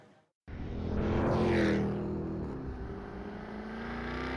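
A Jaguar F-Type sports car's powerful engine revs up loudly, swelling to a peak then holding a steady, throaty roar close by with no talk.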